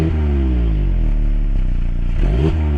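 A Mazda MX-5 ND engine catches and settles into a steady, loud idle with a throaty low rumble and a small blip near the end.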